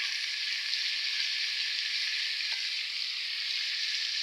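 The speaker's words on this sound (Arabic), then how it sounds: "هحمر التوميه واحط الطماطم عليها" Garlic frying in hot oil in a pan for a pasta dish, a steady close sizzle that holds evenly throughout with no talking.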